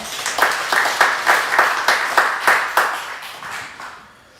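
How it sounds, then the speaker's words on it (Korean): Congregation applause at a Sunday church service, many hands clapping together in a steady, even rhythm that carries for several seconds before fading out. "박수를 한번 드리겠습니다."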